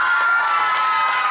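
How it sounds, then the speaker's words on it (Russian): Audience in a hall at a creative competition, a loud dense crowd roar of cheering and shouting that carries on without a break, close and filling the space. "вот вам еще аплодисменты зала"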